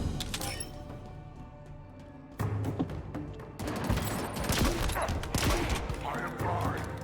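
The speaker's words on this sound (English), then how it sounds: "Rocket launcher." Rocket launcher fire in the Halo Infinite shooter, with dense explosive blasts, crackling debris and shattering bursts packed together after an initial quieter stretch, loud and continuous; a voice speaks briefly.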